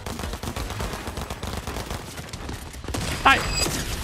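Rapid automatic fire from dual SMGs in a first-person shooter, a dense crackling burst of shots running throughout under game noise, with a sharper cluster of reports near the end.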